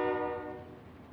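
A train in the Call of Duty Rebirth video game passes as a brief, steady mechanical rumble with tonal hum, loud at first and slowly fading.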